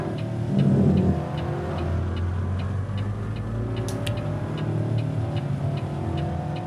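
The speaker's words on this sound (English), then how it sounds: "that motorcycle sound mod's coming out" Engine drone and road rumble inside American Truck Simulator with a motorcycle sound mod running, a steady mid-pitched revving hum under light ticking, close and continuous with no talking.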